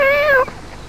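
A single cat meow sounds close and loud, a drawn-out tonal cry lasting under half a second before fading into quiet room noise.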